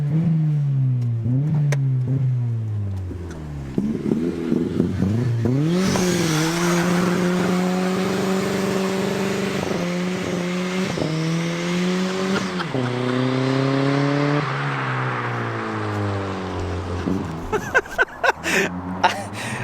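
A turbocharged 1.8-litre Toyota Yaris SR engine revs hard through rising and falling pitches, with a long sustained high-rev roar in the middle and short throttle blips at the end.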